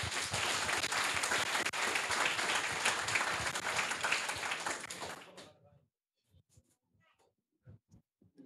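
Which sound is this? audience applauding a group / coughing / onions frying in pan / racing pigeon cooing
audience applauding a group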